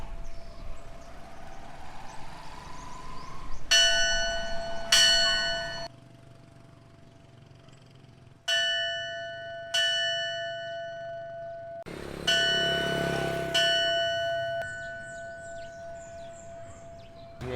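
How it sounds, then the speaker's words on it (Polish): A church bell swung by pulling its rope rings out in loud, separate metallic clangs with long ringing decays and quieter gaps between strikes over low street rumble. "on ciągnie za ten sznurek od tego dzwona"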